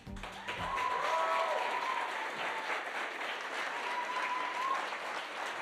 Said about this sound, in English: Keep applauding. Keep applauding.